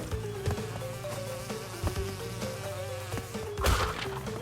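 Bees buzz steadily in the video game Crash Bandicoot 2: Cortex Strikes Back, a continuous droning hum layered over busy game music and sound effects, with a brief louder hit near the end.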